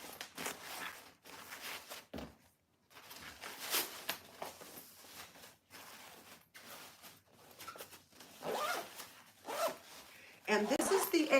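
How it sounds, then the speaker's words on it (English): The external zipper of a fabric packing cube is pulled closed in several quick, rasping runs with short pauses between them, close by, under a person's intermittent talking. "this is the external zipper that just zips it up"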